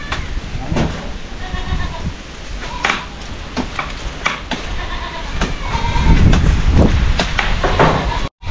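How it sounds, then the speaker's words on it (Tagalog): Goats bleat repeatedly on a farm during an okra harvest, several wavering cries at moderate distance among rustling and clatter, with people talking nearby. "Kambing, kambing."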